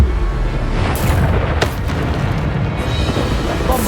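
A Bombarda spell explosion in the video game Hogwarts Legacy lands as a loud, close boom with a sharp crack, then a rumbling blast that continues through the whole moment.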